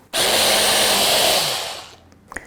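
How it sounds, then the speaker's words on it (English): A blender whirs loudly and steadily for about two seconds, puréeing a tomato paste mixture for gluten-free pepperoni pizza muffins, then winds down with a few small clicks at the end. "But I'll go ahead and put on my lid and just blend this until smooth."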